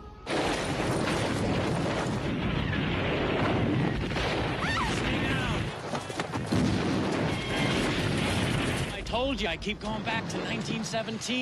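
Battle noise from a 1917 war film scene: gunfire, booms and crashing explosions thunder continuously and loudly, mixed with shouting voices and clattering mechanisms.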